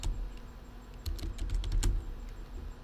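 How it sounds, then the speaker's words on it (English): Soft typing on a computer keyboard, a short burst of light clicking keystrokes, quiet and close, over faint background hum. "I'm going to type in 4 nights"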